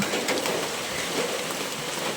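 Rain falls steadily in a village in the morning, a dense, even hiss of drops close by with no other sounds.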